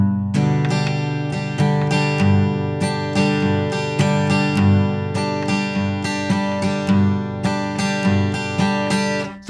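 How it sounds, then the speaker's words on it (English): Acoustic guitar strummed in a steady repeating pattern for the folk song This Land Is Your Land, with full chords ringing close and loud and regular down and up strokes and no voice. "So here's a strum that I like to use in this song."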